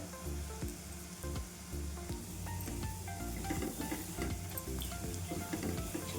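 Potato bhaji frying in a pan with turmeric, salt and red chili powder, giving a steady close sizzle with occasional stirring clatter and no voices.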